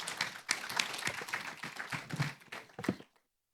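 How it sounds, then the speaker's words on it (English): An audience at an AI security and governance forum gives the panelists a round of applause. The clapping comes as uneven, close individual claps that thin out and stop abruptly near the end. "could we please give our panelists a warm round of applause for their contributions?"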